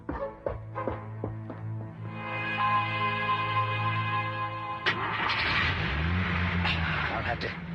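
A car engine cranks with a few sharp clicks, catches into a steady idle hum, then roars louder as the vehicle pulls away, close and prominent throughout.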